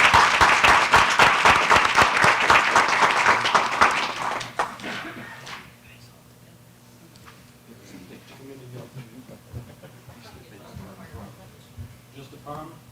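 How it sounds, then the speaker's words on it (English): An audience at a town council meeting applauds loudly for several seconds, then the clapping fades out and scattered talk and movement follow in the room. "I would like for everybody to give them all a round of applause again."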